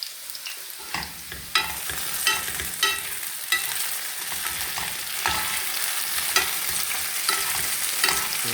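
Potatoes frying in a pan are stirred repeatedly, with irregular scraping strokes over a steady close sizzle and no talking.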